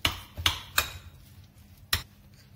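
A spoon clinks against a bowl while peas, corn and capsicum are mixed for baked potatoes, giving a few sharp close taps in an uneven rhythm with soft scraping between them.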